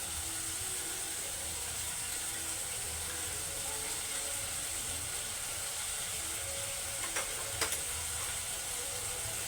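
Cumin and coriander paste sizzles steadily in a pan for a vegetarian doi potol curry, a constant close hiss with a few faint clinks near the end.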